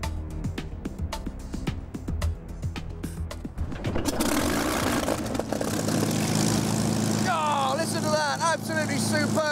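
A Supermarine Spitfire's engine cranks with uneven coughs and bangs, then catches and settles into a loud, steady propeller roar, with voices heard during the start-up.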